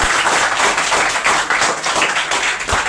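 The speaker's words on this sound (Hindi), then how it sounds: "तालियां दिया जाए इस बात के लिए।" Steady, dense audience clapping at a motivational talk on a youth coaching institute, a loud continuous wash of many hands that holds for about three seconds without talk.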